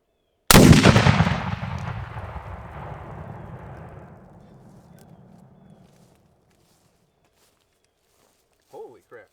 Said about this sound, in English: So I'm just going to fire one shot